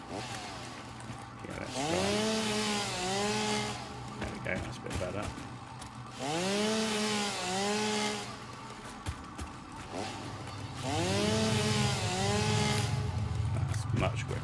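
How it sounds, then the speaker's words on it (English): A chainsaw in the Satisfactory video game revs in three long whining bursts, each rising and falling in pitch, while someone talks over the cutting. "Can we chainsaw it quicker?"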